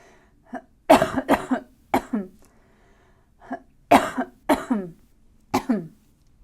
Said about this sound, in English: I'm about to cough up a lung